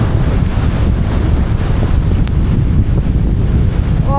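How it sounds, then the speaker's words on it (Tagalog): Strong wind buffeting the microphone outdoors near a stream, a loud continuous roar throughout with no pauses. "Sobrang lakas ng hangin."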